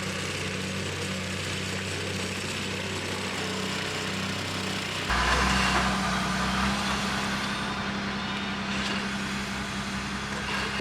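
A cement truck's diesel engine rumbles steadily close by at a building site for an A-frame cabin foundation, growing louder and heavier about halfway through as it pulls in, then holding a continuous idling drone.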